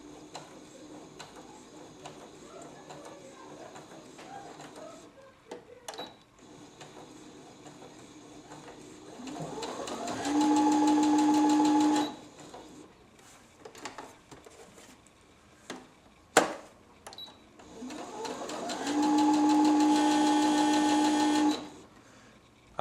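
A Brother NV 10 sewing machine stitches in two sustained, steady motor-driven runs of about two seconds each, separated by quieter handling clatter and a sharp click.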